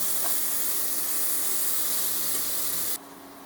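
Mushrooms, rosy-red boletes, hit a hot frying pan with a steady, loud broadband sizzle that runs continuously for about three seconds and then drops abruptly to a quieter hiss.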